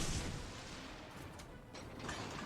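Naval gunfire from a Fubuki destroyer in World of Warships: Legends, a few heavy booming salvos with sharp cracks, moderately loud over a rumbling battle backdrop.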